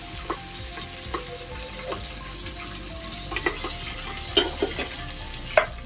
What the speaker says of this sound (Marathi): खडा मसाला